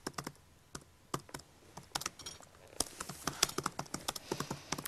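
Rapid irregular clicking of keys on a computer keyboard, close and crisp, in uneven bursts that grow denser toward the end.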